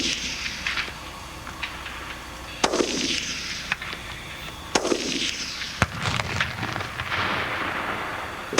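A small explosive blast from an HK G11 caseless-ammunition demonstration at a shooting range, a sharp crack followed by a few scattered pops and bursts over an outdoor wash, moderately distant with no voices.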